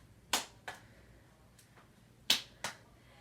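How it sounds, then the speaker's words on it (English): Sharp single claps ring out while juggling one object, two pairs of crisp, close hits spaced apart with a quieter clap or catch following each loud one, otherwise near silence. "I'm going to clap 1 time"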